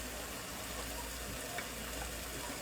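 Pork sausage meat sears in a pan with a constant soft, hissing sizzle, fairly faint and even throughout, without talk.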